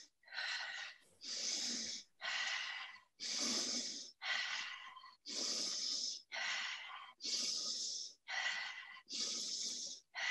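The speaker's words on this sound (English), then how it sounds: "you keep a pace that is a strong inhalation and a relaxed exhale" Rhythmic breathing exercise: ten or so strong, forceful inhalations alternating with relaxed exhales, close and loud, in a steady pace of roughly one breath per second, with no talking.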